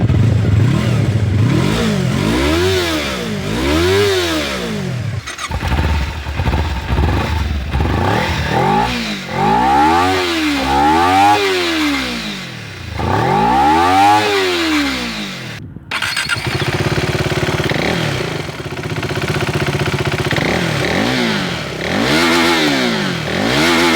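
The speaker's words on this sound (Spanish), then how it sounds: "Vamos a ver cómo suenan estas motocicletas." A Yamaha R3, a KTM RC 390 and a Kawasaki Ninja 300 sport bike take turns revving loud and close, each engine climbing and falling in repeated swells, with some brief idling between blips.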